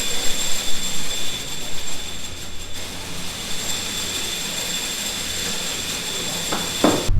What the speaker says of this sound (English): hold this one, get the wheel spinning